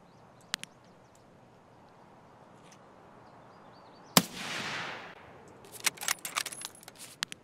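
A video game sniper rifle fires at a renegade base: one loud sharp shot with a long rolling echo, then a burst of quicker cracks toward the end. Faint isolated clicks come before it, and no one speaks.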